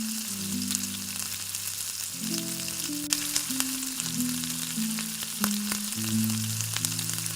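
Bay leaf, dried red chilli and panch phoron spices sizzle in hot oil for an egg kosha curry, a steady close crackling hiss running throughout with no talk.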